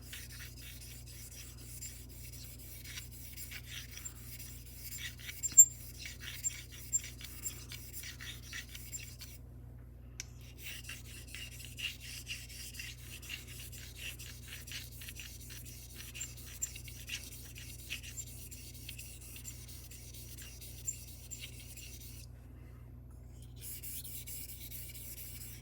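A Heljestrand straight razor is honed on a stone with slurry in a steady run of soft rhythmic scraping strokes, close and quiet, repeating for the whole stretch with a brief pause partway through.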